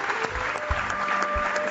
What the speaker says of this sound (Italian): Applauso a Viola